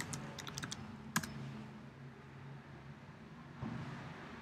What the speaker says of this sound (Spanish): Ponemos el nombre de usuario y la contraseña.